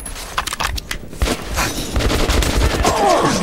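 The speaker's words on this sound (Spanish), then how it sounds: "yo disparándole con esa arma de mierda" Gunfire crackles in the video game Metro 2033, with bursts of shots and heavy impacts over a rumbling game soundscape, loud and close.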